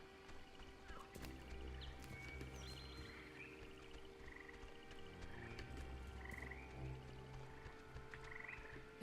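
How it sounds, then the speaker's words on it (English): Frogs croak in a faint, continuous chorus, with overlapping low repeated calls and a few brief higher chirps carrying through a quiet outdoor setting. "I hear frogs."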